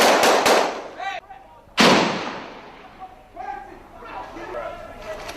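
Grenade blast and gunfire in a military shooter game, a few sharp close shots and a loud explosion with a rolling decay and distant pops, while several players talk over the combat.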